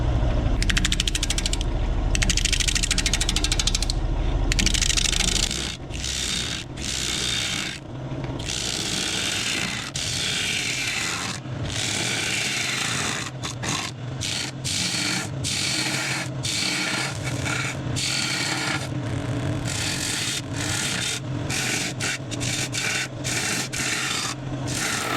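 Bowl gouge cutting a spinning wood blank on a lathe at 400 RPM, a continuous close rasping scrape with rhythmic rubbing that pauses briefly between passes.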